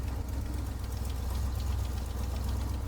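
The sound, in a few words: Chevy V8 engine running in a classic FX4 taxi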